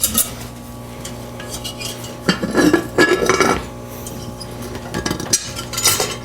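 Metal parts of a cast iron steamer kettle clank and clink as the handle and lid are pulled off, a few sharp knocks and scrapes in bursts mid-clip over a quiet background.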